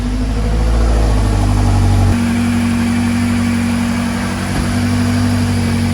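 A 2016 BMW X5M, an F85 with a tuned 702 hp engine, idles steadily and loudly up close after a brief throaty start, holding a deep continuous rumble throughout.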